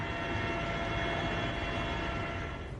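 An Air Force helicopter dropping flood relief supplies over Darbhanga, Bihar, gives a steady, dense engine and rotor roar that holds at a moderate level throughout and fades slightly at the end, with no voices.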